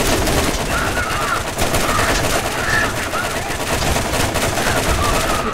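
Gunfire from the player's weapon in the Borderlands shooter, a dense, loud, continuous stream of rapid automatic shots with no pauses for over five seconds.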